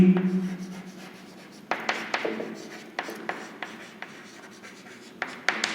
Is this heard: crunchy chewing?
no